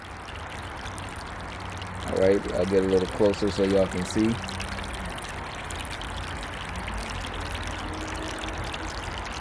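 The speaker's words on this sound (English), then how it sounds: "Still got that nice calm water fountain and waterfall sound, whatever you want to call it" Gentle water trickles and splashes continuously from an electric three-tier bird bath fountain with lights, a steady soft flow running under someone speaking close by.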